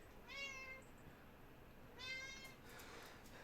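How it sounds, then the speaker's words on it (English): A house cat meowing twice at close range, two clear drawn-out meows about a second and a half apart against a quiet room, with faint rustling afterward. "There's a cat."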